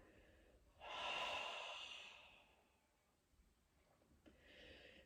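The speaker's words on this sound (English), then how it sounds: "Exhale again." A long, slow, breathy exhale during a gentle yoga movement, close and soft, fading out gradually, then a shorter second breath begins; no speech.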